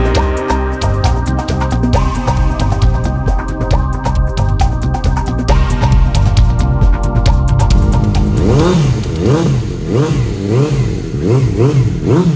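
A 2020 Suzuki GSX-S750 ABS motorcycle with 11,573 miles idles at a dealer in Leeds, then its engine is blipped in repeated rising and falling revs, loud and close, with no talking.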